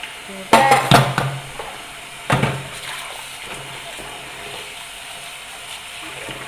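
Dishes being washed by hand in a basin of soapy water without running water: a few close splashes and clinks of water and crockery in short bursts, with quiet handling between.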